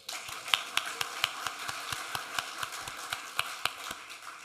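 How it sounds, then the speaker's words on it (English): Sparse audience clapping at a State of the City address, a few distinct hand claps in an uneven rhythm rather than full applause, close and fairly quiet. "We can clap right there."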